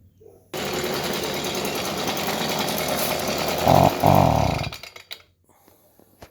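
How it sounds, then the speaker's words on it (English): A small engine with a fouled spark arrestor starts up and runs at a steady, loud drone, then surges briefly when the throttle is opened before sputtering, bogging down and dying out into near silence. "So it idles, no problem. But the minute you give it more gas, it bogs down and dies."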